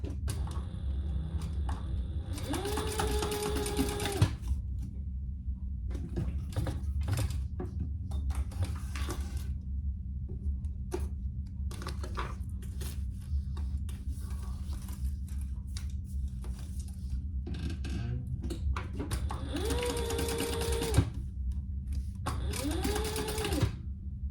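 A sewing machine basting the side seams of a fabric crossbody bag, with bursts of rapid needle chatter near the start and end and quieter handling sounds in between.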